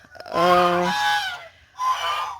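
Geese kept in a poultry pen honking: two loud, harsh, nasal calls close by, the first long and buzzing, the second shorter after a brief pause.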